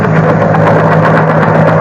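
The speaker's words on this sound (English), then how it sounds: "Listen. Helicopter." A steady, loud mechanical engine drone with a low hum, unbroken throughout and with no voices.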